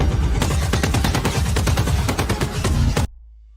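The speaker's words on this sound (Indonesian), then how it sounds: "Daerah itu dihujani oleh tembakan dan roket milik Hornet." Rapid bursts of automatic gunfire and rockets from a Hornet fighter jet with heavy booming impacts, loud and continuous, ending abruptly in silence.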